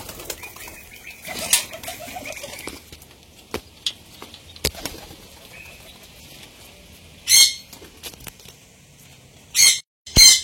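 Pigeons being fed flutter and peck. Sharp wing flaps burst loudly in a few brief flurries, with faint scattered taps and shuffles between them and no talk.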